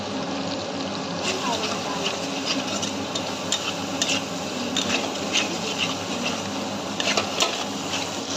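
Ground chilli, cumin and coriander powder with ginger paste and turmeric fry in a pan for a vegetable chop filling, giving a steady dense sizzle with scraping stirs throughout, under faint talk.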